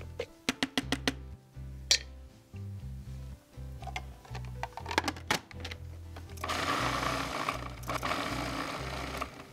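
A food processor pulsing while making a beef stew with dumplings, a series of short mechanical bursts with clicks between them, then a longer continuous whir toward the end.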